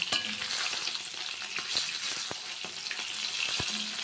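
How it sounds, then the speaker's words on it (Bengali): Hilsa fish frying in hot oil, a dense continuous crackle and sizzle heard up close, with a few sharp spatters and light scrapes over the steady hiss, and no voices. "মাছটিকে একটু লাল করে ভাজবো"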